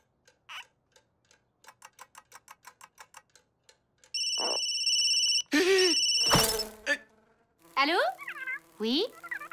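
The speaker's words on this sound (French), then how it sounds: "C'est mon téléphone!" A mobile phone ringtone sounds in a comedy scene, opening with a run of quick, evenly spaced beeps and then louder melodic tones with short gaps between them, with some voices mixed in.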